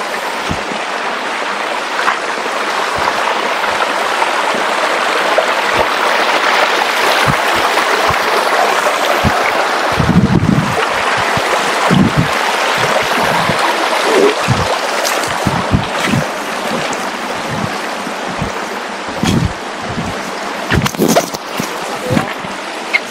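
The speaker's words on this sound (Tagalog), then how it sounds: "Ito nga pala mga ka-detour yung tinatawag nilang Hilingan Falls" Steady broadband rush of Hilingan Falls on a mountain trek, a continuous waterfall roar filling the whole stretch with occasional low thumps and knocks near the microphone.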